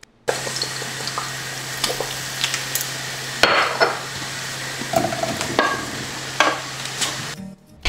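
Fried rice with soy sauce sizzles steadily in a pan while being stirred, with scraping strokes and a short burst of running tap water, loud and close throughout.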